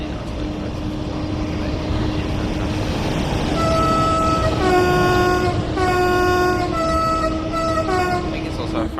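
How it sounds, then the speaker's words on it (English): A Vectron BR 193 electric locomotive running in Train Sim World 4, a loud steady rolling rumble with a rising electric whine and tonal hum building through the middle. "the Vectron, which is a really, really nice locomotive to drive"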